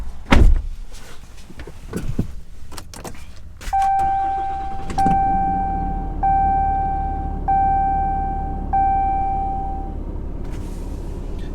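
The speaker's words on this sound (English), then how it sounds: "I'm going to go ahead and start it up for you guys too." Interior of a 2022 RAM 5500 crew cab truck with several door and handling clunks, followed by a steady chime tone repeating in pulses over the engine starting and settling into a low idle rumble.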